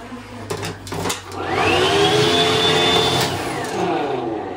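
A hotel bathroom hairdryer runs with a steady, loud whirring motor and a rising whine that holds level for several seconds, then tapers slightly, close by and continuous.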